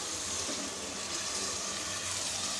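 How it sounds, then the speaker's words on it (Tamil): Soaked moong dal tipped into a cooking pan together with its soaking water, giving a steady wash of pouring, splashing liquid that runs unbroken and fairly close for a couple of seconds. "ஊறின தண்ணியோடு அப்படியே சேர்த்துடலாம்"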